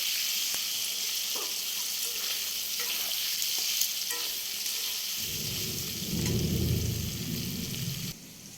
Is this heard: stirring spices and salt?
yes